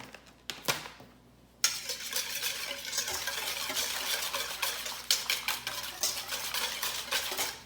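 Ingredients for homemade dinner rolls being stirred together in a bowl: a quick rhythmic series of clinking, scraping utensil strokes against the bowl, close and fairly loud, after a brief quieter moment at the start, no voices.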